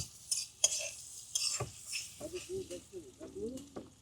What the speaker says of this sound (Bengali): ওইটা কি ইয়া পেঁয়াজ ভাজতেছেন না কাকা?